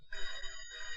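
A telephone rings once in a short electronic burst, fairly close and clear, with no voices.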